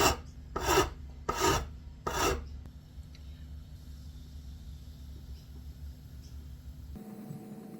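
Rough rasping strokes of a file on a violin nut as its height is lowered, three strong close strokes in steady rhythm, then quiet workshop hum with a faint low drone.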